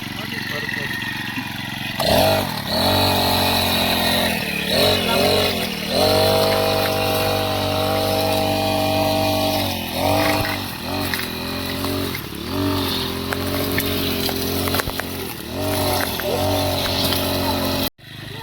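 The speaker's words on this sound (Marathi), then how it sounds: "बघा आता मशीनने गवत काढायचं काम चालू आहे" A petrol grass cutter engine drones steadily throughout, its pitch rising and dipping as it revs, with people talking over it.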